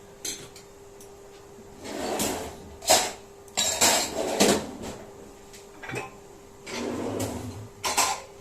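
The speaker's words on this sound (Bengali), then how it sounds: "এগুলো রেখে দিই, বাসনগুলো না জায়গা হয় না এখানে।" Dishes being put away in a home kitchen, with a series of clattering clanks and knocks of pots and plates set down at uneven intervals, close by and with no speech.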